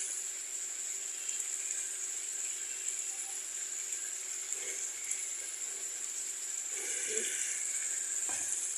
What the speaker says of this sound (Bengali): মশলাগুলো দিয়ে তরকারিগুলো ভেজে নেওয়ার পরে